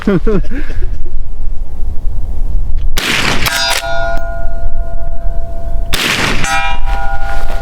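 Lever-action rifle shots at a 200-yard steel target: two loud sharp cracks a few seconds apart, each followed by a ringing metallic clang from the struck steel, over outdoor background noise.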